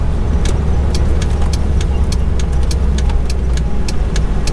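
An engine in a vehicle with a 4L60E automatic transmission pulls away in first gear, a steady low rumble with a faint tick and whine above it, loud and close throughout.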